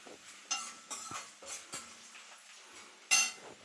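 Plantain frying in a pan, heard as a faint low sizzle under sharp clinks and scrapes of a metal utensil against the pan, with one louder clatter near the end and no talking.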